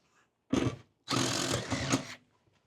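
A DeWalt power tool whirs in two close, loud bursts during a ceiling kit install in a 2024 Transit van: a short spin, then a longer run of about a second.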